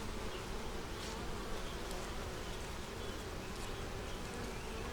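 Dense, continuous buzzing of many honey bees crawling over a hive frame full of brood and nectar, close and steady, with a faint hum underneath and no talking.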